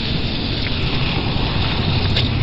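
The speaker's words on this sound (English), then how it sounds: "It's been raining heavily tonight." Heavy rain on a night street pours down steadily and close, a dense unbroken wash of drops with no voices over it.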